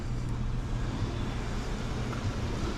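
A car arrives outside a window-tint shop, its steady low engine rumble and road noise holding level and fairly close throughout, with no voices.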